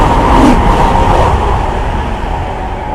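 A high-speed train, G7005 from Nanjing to Shanghai, rushes past on the Shanghai–Nanjing intercity railway as a loud, close, steady roar of wheels and air that eases slightly toward the end, with no talking.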